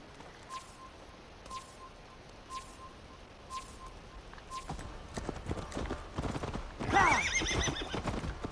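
A horse in the video game Assassin's Creed Valhalla snorts and whinnies, then hooves clop in a quickening run that builds to a loud, close whinny near the end over a steady outdoor ambience.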